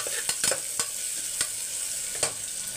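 Large onions sautéing in a pan for a Karnataka-style tomato rice: a steady close sizzle broken by a few sharp scrapes and stirs, with no talking.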